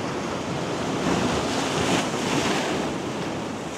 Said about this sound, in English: The big waves that you don't expect.